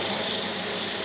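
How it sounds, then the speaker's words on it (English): Sandpaper backed on a Velcro scrap-wood pad sanding a spinning wooden stool part on a lathe at reduced speed, a steady, loud, broadband hiss and whir running without a break. "And start sanding."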